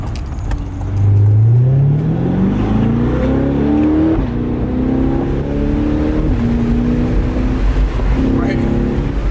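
A C8 Corvette Stingray accelerates hard on a test drive, its engine climbing steadily in pitch through a long rising pull, with gear changes before it rises again, loud from inside the cabin and under occasional talk.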